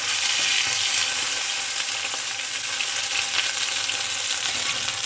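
Tilapia fish fries in oil in a pan over a medium flame, giving a dense, even, loud sizzle that stays steady throughout without talk.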